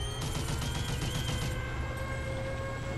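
Sustained roar of an artillery barrage with rapid repeating shots in the video game Toy Soldiers: War Chest, a loud volley that thins out after about a second and a half, leaving a lingering battlefield drone without any voices.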